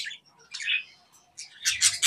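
Pet budgerigars in a breeder's setup giving short, bright chirps and squawks in quick bursts, close by, with a denser cluster of calls at the end and no talking.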